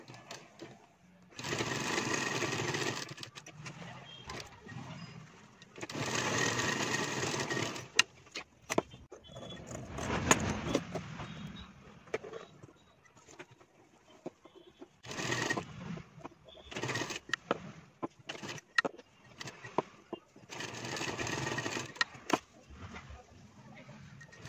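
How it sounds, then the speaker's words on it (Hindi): Close, loud bursts from a sewing machine stitching a women's shirt collar, several runs of a few seconds each with gaps filled by handling clatter in between. "तो यहाँ से हम पक्की सिलाई लगाएंगे।"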